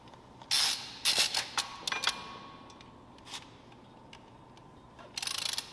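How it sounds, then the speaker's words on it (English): A ratchet clicks in several quick bursts while tightening the crank bolt on a turbo BMW M52 engine, close and fairly faint, with pauses between bursts and a final run of clicks at the end. "I get to be on that side tightening the crank"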